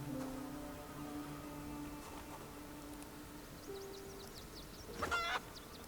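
Chicken clucks in the survival video game Project Zomboid, a short burst of bird calls near the end over a steady humming game ambience with faint background tones.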